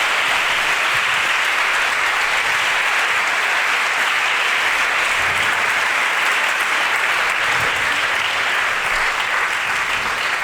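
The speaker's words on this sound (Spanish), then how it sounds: "Yo les pido un aplauso para estas 3 mentes brillantes." Audience at a talk on Gaudí's centenary bursts into sustained, dense applause that stays loud and even throughout, with no voices rising above it.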